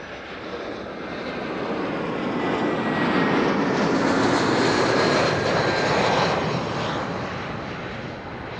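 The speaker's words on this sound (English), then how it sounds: "BA flight 432 arriving from London Heathrow" A British Airways passenger jet arriving at Amsterdam Schiphol from London Heathrow, its broad engine roar swelling as it passes close by, peaking midway and then easing off, with no voices over it.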